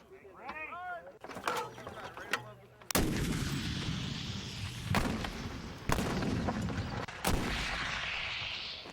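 Nineteenth-century black powder artillery fires at a long-range match at Camp Grayling, Michigan. Several loud outdoor booms follow each other, each leaving a long rumbling decay, after a spoken introduction.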